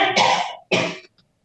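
Two loud, harsh coughs or throat-clearings close to the microphone in a courtroom, about half a second apart, followed by a faint short rasp and then silence.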